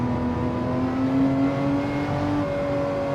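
A turbo Porsche engine revs steadily in a racing video game at Deep Forest, Switzerland, a smooth, loud, droning whine that climbs slightly in pitch as it holds on, with no talk over it.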